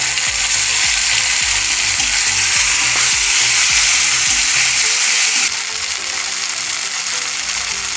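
Ground spice paste fries in a pan, a loud hiss with crackling. A rhythmic mechanical clicking runs through the first half, then stops and leaves only the sizzle.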